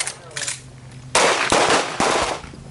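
Handgun shots fired on a range during a combat shooting class, several sharp reports in quick irregular succession, loud and close, with other shooters' gunfire blending in.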